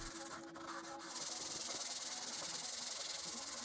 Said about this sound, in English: I did some final hand sanding to clean up the router cuts.